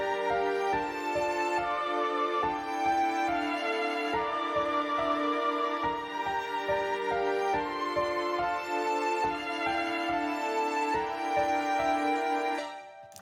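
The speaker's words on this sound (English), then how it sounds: "opened up the ambient piano preset in Xband and drew out these kind of like staggered chords" Ambient piano preset in FL Studio playing staggered chords within a drill beat melody, layered with other melodic parts, sustained dense harmony with a rhythmic low pulse underneath, steady and mid-level throughout.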